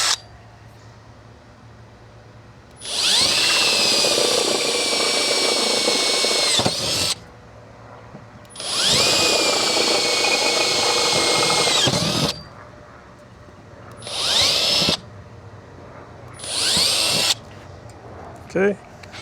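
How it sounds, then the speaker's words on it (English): A power drill whirs loudly up close drilling four quarter-inch mounting holes for a trailer plug on a Ford Ranger Raptor, two long and two short bursts, separated by quiet pauses. "We'll drill the 4 mounting holes to a 1/4 inch."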